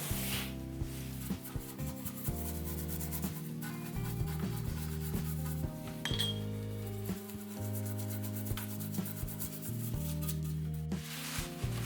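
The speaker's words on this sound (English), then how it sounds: "I remove the residue with solvent and a brush" A brush scrubbing solvent over the paint residue on a metal Lancia 037 scale model car, a close, continuous rubbing and scratching with occasional light clinks, over steady soft background music.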